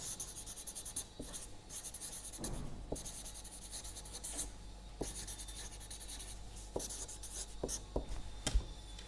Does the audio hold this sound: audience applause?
no